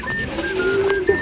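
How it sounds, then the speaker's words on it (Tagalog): A pigeon or dove coos in a single soft, drawn-out call near the end, heard outdoors over faint background hum with no talking. "Ito yung ibon guys oh."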